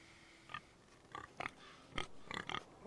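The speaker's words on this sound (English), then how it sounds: "is there a pig loose?" A loose pig in the Game of Thrones game grunts and oinks in a series of short, separate snorts, about six bursts spaced irregularly over a few seconds, fairly close with no talk.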